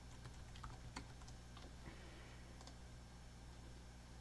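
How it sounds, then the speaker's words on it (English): Fingers type a username on a computer keyboard under a steady low hum, a short run of soft, faint key clicks clustered in the first second and a few scattered taps later, with no talking. "you can type in your username"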